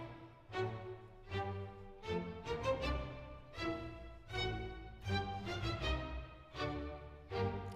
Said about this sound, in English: If they're asked to play staccato, it would sound like this with the bow.